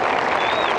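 Gallery applause at the 1995 U.S. Women's Open for Nancy Lopez walking up the 18th, a dense, steady wash of clapping from a sizeable crowd throughout the brief moment.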